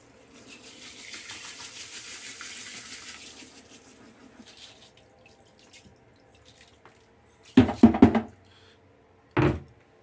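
Water pours into a bathtub for a few seconds, a steady rushing stream that fades out, followed by quiet and then a couple of sharp knocking clunks near the end.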